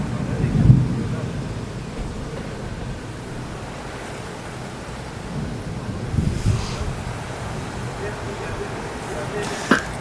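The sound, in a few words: strong wind during a storm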